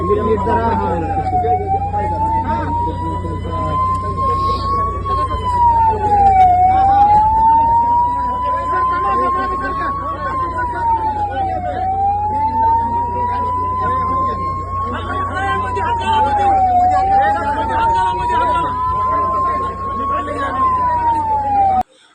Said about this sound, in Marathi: महाराष्ट्र शासनाच्या एकशे आठ रुग्णवाहिकेच्या अगोदर पोहोचते शेखर भाऊंची रुग्णवाहिका